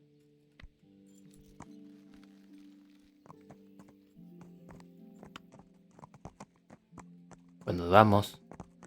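Horse hooves clopping in the medieval role-playing game Kingdom Come: Deliverance, soft intermittent footfalls under game sounds and a short spoken line, ending in a louder burst near the close.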